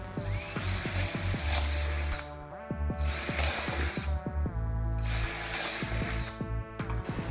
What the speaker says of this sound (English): The obvious next step to secure them better was to drill holes.